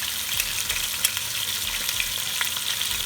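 Ginger garlic paste frying in a kadai for chicken jalfrezi gives a steady, bright hiss of hot oil with faint scrapes of a spoon, close and continuous, no speech.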